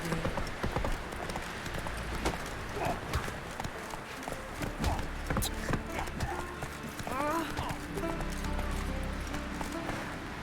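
Hooves clip-clop rhythmically as a horse gallops in The Witcher 3 video game, steady and fairly close beneath game music and speaking voices.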